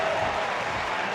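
A steady, broad roar from a stadium crowd cheering during a Commonwealth Games men's steeplechase race, loud and continuous, with a faint voice under it.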